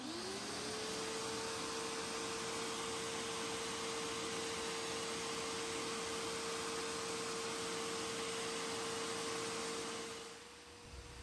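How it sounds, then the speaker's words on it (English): Bissell SpotClean ProHeat portable carpet spot cleaner running with a loud, steady suction roar and a sustained motor whine that holds constant for about ten seconds, then fades slightly as it winds down. "this spot cleaner is working really well. It actually extracts a lot better than I expected for such a small unit"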